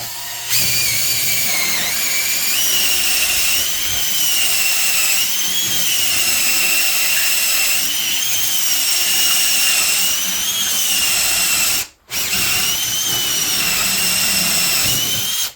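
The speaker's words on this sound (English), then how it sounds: "now we're going to switch over to our 1-inch hole saw" A power drill with a 1-inch hole saw bores a backset hole through a door for a new deadbolt, a loud continuous whine running about fifteen seconds with one brief stop near the end.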